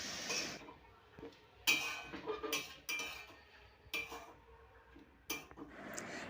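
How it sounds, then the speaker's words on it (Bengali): Red amaranth greens stirred in a kadai, with metal spoon scrapes and clinks against the pan coming in irregular bursts at close range, separated by quieter pauses. "এবারে এই লাল শাকটাকে অর্থাৎ লাল নোটে শাকটাকে আমি বাকি সব কিছুর সাথে ভালো করে কড়ার মধ্যে মিশিয়ে নিচ্ছি"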